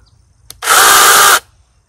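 A lightweight battery-powered mini chainsaw whirs up close in a single loud, even burst of under a second, starting and stopping abruptly with no talking.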